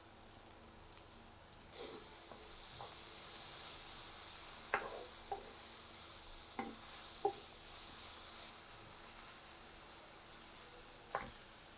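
Grated carrot fries in a little oil in a pan, giving a soft, steady hiss throughout, broken by a few light stirring taps and clicks. The sound is quiet and close, and no one speaks.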